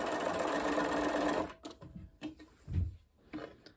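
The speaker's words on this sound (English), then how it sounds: "I've just got this little thing on my sewing machine where I can do one stitch at a time" A sewing machine whirs steadily for about a second and a half, then stops. A few separate clicks and thumps follow.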